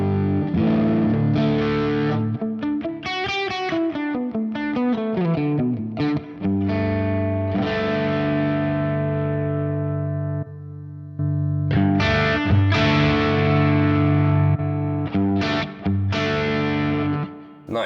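Guitar runs through a drive effect preset on a Fractal FM3, a loud, sustained distorted tone with held chords, a bending slide through the middle, a brief gap, then more ringing chords.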